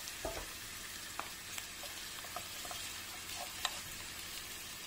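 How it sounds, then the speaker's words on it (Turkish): Tomato paste frying in a pan as part of a meatball and pea stew, a steady soft sizzle throughout with a few light clicks and taps of stirring, no voices. "bir yemek kaşığı yemeğimizin salçasını verelim ve kavuralım."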